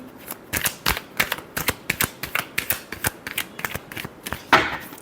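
Tarot cards being shuffled by hand at close range, a quick run of crisp riffling slaps in a steady rhythm, alone without talking.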